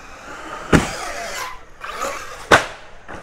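An Arrma Kraton EXB RC car screams past at full speed, its motor whining in rising and falling sweeps, with two sharp impacts as it launches off a ramp and lands. The sounds are fairly close and loud, with no talking.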